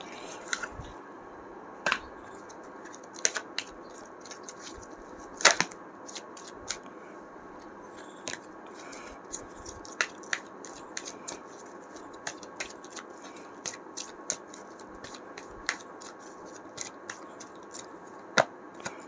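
Tarot cards are handled and drawn from the deck, with soft sharp snaps, flicks and shuffling slides, irregular and close, over quiet background.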